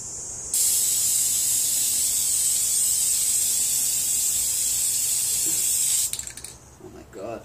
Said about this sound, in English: Let's start spraying this.